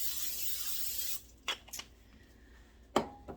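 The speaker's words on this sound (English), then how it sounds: "put in my butter spray" A sustained hiss of butter cooking spray sprayed into a pan lasts about a second, followed by a few faint clicks and handling sounds.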